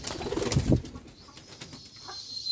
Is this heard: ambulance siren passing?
no